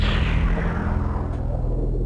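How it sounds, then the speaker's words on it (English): A keyboard synthesizer plays a special effect in its low register, a deep rumbling, noisy roar with a whooshing texture that holds steady for about two seconds, loud and close, without speech. "I put my special effect in the low register of the keyboard."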